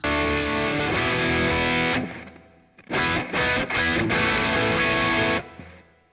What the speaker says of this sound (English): so when you overdo it, you heard that distortion coming in